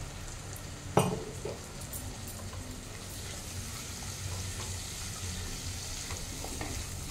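Cabbage with hilsa fish head sizzles steadily in a hot pan as it is stir-fried, with one sharp utensil clink early on and soft stirring scrapes over the continuous frying hiss.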